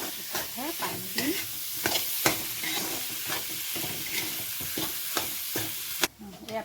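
Food frying in a pan with constant close sizzling and frequent clattering stirs of a spoon, ending in a sudden drop to quieter sizzle.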